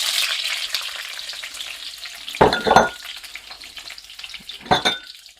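Green and red bell peppers hitting a hot pan, a loud close hiss of frying that dies back to a steady sizzle, broken by two bursts of spatula scraping and tossing.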